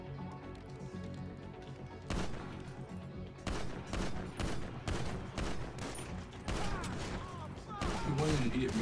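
Gunfire in the video game GTA Online: repeated loud bursts and rapid volleys of shots, close and dense, with a short lull before the firing resumes and intensifies toward the end.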